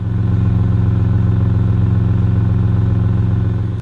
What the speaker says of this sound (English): The exhaust sounds perfect.